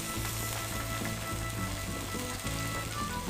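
Ribeye steak on a fire pit grill: a dense, continuous sizzle and crackle of fat spitting over the fire, steady and close throughout with no voices.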